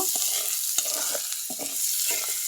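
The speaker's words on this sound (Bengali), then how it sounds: "এখন আমি এই যে মুরগির গোস্তটা দিয়ে হালকা একটু হলুদ হালকা একটু লবণ আর অল্প একটু মশলা দিয়ে এটা ভাজা নেব" Chicken pieces fry in a pan with a little turmeric, salt and spices. A bright sizzle runs throughout, broken by repeated scraping and knocking of a stirring utensil, with no talking.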